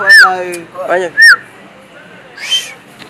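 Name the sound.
person whistling on request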